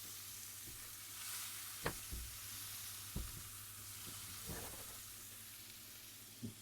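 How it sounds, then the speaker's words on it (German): Steady low sizzle of beef and vegetables searing in a pan for Viennese vanilla roast beef, with occasional sharp clinks and scrapes of a utensil stirring. "Die tun wir auch schön nebenbei wunderbar schön anbraten"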